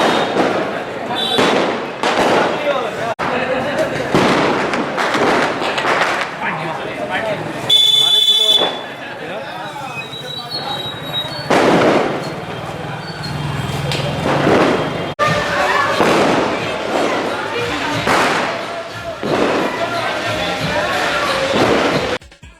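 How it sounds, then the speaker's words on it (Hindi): Diwali firecrackers and fireworks pop and bang repeatedly in bursts, close and loud, with people talking and shouting throughout. "दीपावली पर पटाखा छोड़ने के लिए बच्चों में होड़ मची रही।"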